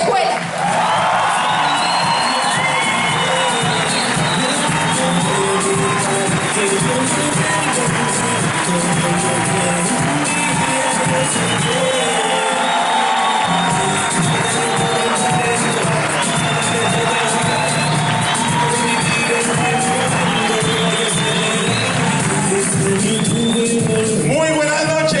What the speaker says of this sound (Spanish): quiero que lo recibamos como él se lo merece, con un muy fuerte aplauso